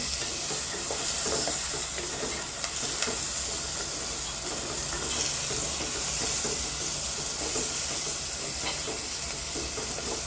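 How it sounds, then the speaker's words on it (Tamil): Shallots, garlic and onions sautéing in a pan for crab masala, a dense continuous hiss and sizzle with faint stirring scrapes throughout, steady and close, no speech. "இதில் சின்ன வெங்காயம், பூண்டு, பெரிய வெங்காயம்லாம் போட்டு வதக்குறோம்."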